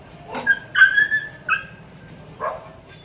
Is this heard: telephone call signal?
no